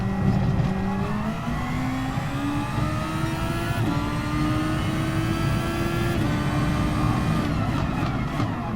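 Race car in a sim racing game accelerating hard through the gears, its engine note climbing steadily and then dropping at two quick upshifts before rising again, loud and close with no voices.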